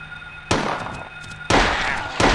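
Gunshots fired at dogs in the PlayStation game Silent Hill come as three sharp, loud blasts at roughly one-second intervals, each one ringing out over a steady electronic hum.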